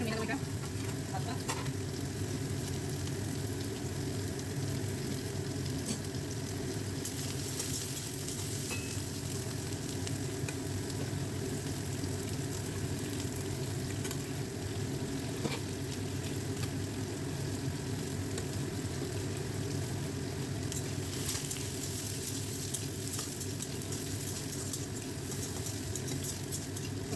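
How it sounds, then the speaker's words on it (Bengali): Chicken pieces fry in oil for chilli chicken, giving a steady, continuous sizzle that holds evenly throughout at moderate loudness, with no talk over it. "চিকেনগুলো ভাজা হয়ে গেল"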